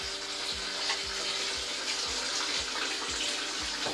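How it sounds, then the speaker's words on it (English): Tap water runs steadily over sushi rice being rinsed, a close, constant splashing rush with a faint rhythmic thump beneath it. "keep running our rice through the water"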